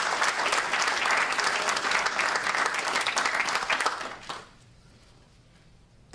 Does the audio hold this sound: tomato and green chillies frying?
no